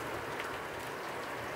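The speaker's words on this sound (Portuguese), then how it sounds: "Ô, chuva abençoada, Deus grande, viu?" Heavy rain falling on a farm in Paraíba, a steady dense hiss of drops with no pauses, continuous and fairly close, with no voices.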